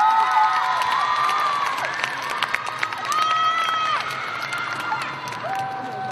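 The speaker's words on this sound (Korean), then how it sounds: "힘찬 박수로 고산 대표님 모시겠습니다." A young audience in a gymnasium at a youth humanities concert in Suwon claps and cheers to welcome a speaker. Lively crowd noise with shouts and whoops sits over the clapping while voices ring out on top.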